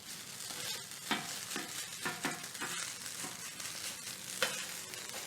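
A whole egg being mixed into rice frying in a wok, with a soft steady sizzle and rhythmic scraping strokes of the spatula repeating every half second or so, fairly quiet.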